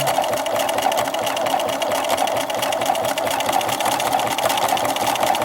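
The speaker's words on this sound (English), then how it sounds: "Then I'm just going to start sewing." A sewing machine stitching decorative stitches on a bookmark, a fast, loud, continuous mechanical whirr with rapid needle chatter, close and steady throughout.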